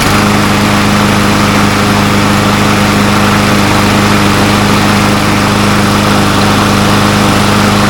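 A Craftsman M230 lawn mower's gas engine runs steadily at close range, a loud, constant droning hum with no change in speed.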